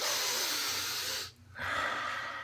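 Two long, deep breaths taken close up, a loud airy inhale then exhale, separated by a short quiet pause, with no talk.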